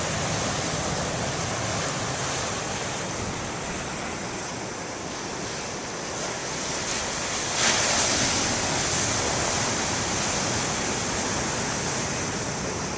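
Ocean waves breaking on a beach produce a steady, loud wash of surf that swells slightly midway, with wind buffeting the microphone and no voices.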